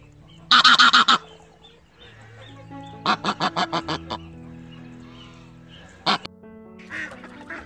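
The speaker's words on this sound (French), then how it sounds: "Voici les volailles de la discorde. Une cinquantaine de canards et d'oies" A flock of about fifty ducks and geese raised on a town-centre property honks loudly and close by, in three separate bursts of rapid, overlapping calls with quieter gaps between them.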